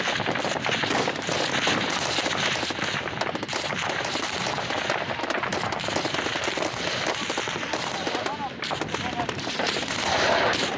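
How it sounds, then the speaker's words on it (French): Heavy, sustained gunfire pours onto an armoured vehicle in combat: dense, rapid bursts of shots and cracks crowd one another loud and close for about ten seconds with no pause. "Mais le blindage du véhicule résiste aux tirs nourris."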